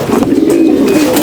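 Racing pigeons coo steadily at a club basketing before a 430-mile race, a dense low warbling that stays loud and close throughout with no gaps, unbroken by any talk.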